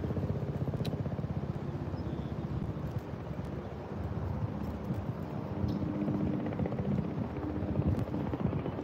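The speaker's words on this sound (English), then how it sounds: "helicopter." A helicopter's steady low rotor drone holds throughout, overhead at a park fishing spot in St. Louis, moderately loud with faint wind and occasional small handling clicks.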